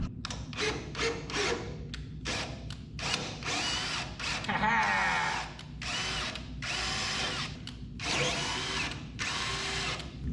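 A tap cuts threads into rusty, crusted bolt holes on a 1967 Pontiac Firebird, giving short grinding power-tool bursts that start and stop repeatedly, close by, with quiet background noise between them.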